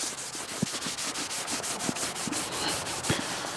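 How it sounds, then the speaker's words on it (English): Steady rhythmic scrubbing of an aluminium rim with a Scotch-Brite pad, close and continuous rubbing strokes with soft periodic knocks underneath. "So I will probably spend another 10 minutes on the Scotch-Brite pad"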